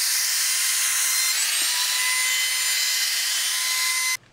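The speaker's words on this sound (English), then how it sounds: "I'll soften up the sharp edges with a 1/16 radius roundover bit" A router fitted with a 1/16-inch radius roundover bit shaping the edges of a wooden table saw throat plate, giving a loud, steady high-pitched whine that runs unbroken and then cuts off abruptly.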